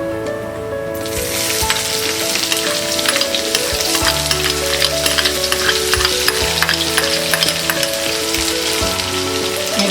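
Onions sizzle and fry in hot oil with chana dal and urad dal, a steady dense crackle that starts abruptly and runs loud and continuous, with stirring scrapes throughout.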